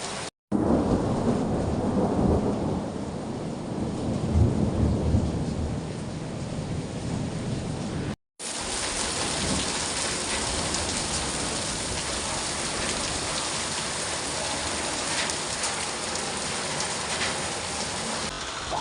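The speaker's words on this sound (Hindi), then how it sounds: "सामने पूरी पहाड़ियाँ अभी ढक गई हैं बारिश से और खूब बारिश हो गई है" Heavy monsoon rain pours across the hills of an Uttarakhand village, a dense, loud, steady roar that continues without a break. A deep rumble of thunder swells and fades within the downpour during the first half.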